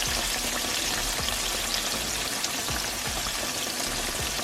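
Pork chops deep frying in hot grease, a steady dense sizzle and crackle with small popping bursts, close and continuous with no talking.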